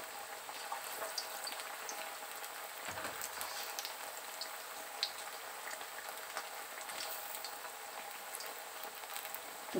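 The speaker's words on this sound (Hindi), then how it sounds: "अभी दो बार इसको आलू के पकौड़े जो है मुझे तलना होगा दो बार" Potato pakoras frying in oil in a kadai give a steady, dense sizzle and crackle with scattered pops, close and continuous throughout.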